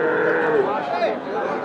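A medium-sized Sahiwal cross bull at a cattle market gives one sustained, fairly loud moo that wavers over a background of crowd murmur.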